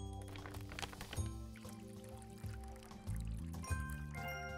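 Water pours into an animal's bowl in the shelter-management video game Animal Shelter, a short liquid trickle against steady game music, with a voice now and then.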